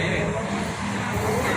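A Harapan Jaya intercity bus pulls slowly into a cramped ticket-counter lot bound for Surabaya, its engine a steady, fairly near broadband rumble with talking over it.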